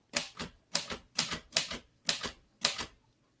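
Manual typewriter keys strike in six quick bursts, each a double clack, close and crisp in a quiet room; the line-end bell ding is not clearly distinct.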